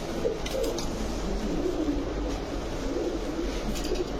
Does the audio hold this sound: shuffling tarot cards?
no